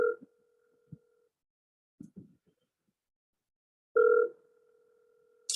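Telephone ringback tone heard while a call is being placed, with two short tone bursts at the start and about four seconds in, separated by quiet gaps holding a few faint clicks.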